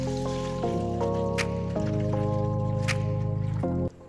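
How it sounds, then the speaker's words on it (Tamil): Full-fat milk pours into a wide pot while homemade paneer is being made. A steady, close filling sound with a rising tone runs for about four seconds, then stops abruptly. "இப்போ நம்ம பால் உள்ளே ஊற்றிக்கலாம்"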